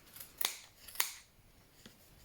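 Scissors snip through wool pressed between two layers of cardboard while a pom-pom is being made, with three crisp, close cuts spaced about half a second apart and little else around them.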